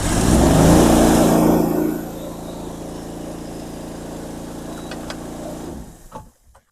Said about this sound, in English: Start the engine so we have water flow.